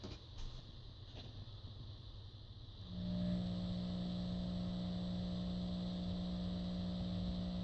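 An AIMS 10kW power inverter is switched on and settles into a steady, fairly quiet electrical hum and whine while idling with no load, rising abruptly a few seconds in and then holding constant.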